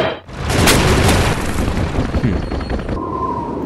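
A tank fires in a game, one loud booming blast followed by a rumbling roar and crackle that holds for a few seconds before cutting off to a quieter tone.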